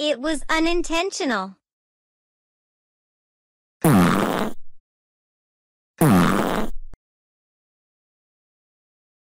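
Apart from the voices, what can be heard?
fart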